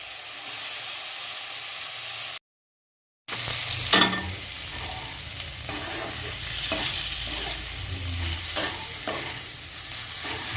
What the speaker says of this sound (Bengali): এবার আমরা আলুটাকে দিয়ে ভালো করে একটু নাড়ানাড়ি করে নেব